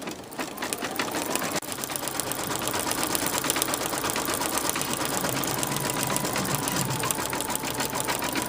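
An embroidery machine stitches orange thread over Mylar on a pumpkin design, its rapid, evenly repeating needle strikes continuing steadily and up close, with no talk.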